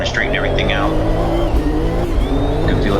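Race car engine in the Automobilista 2 sim racing game roars steadily under heavy throttle as the tires slide and squeal, with someone talking over it throughout.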